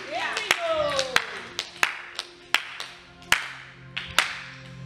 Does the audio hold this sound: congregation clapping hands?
yes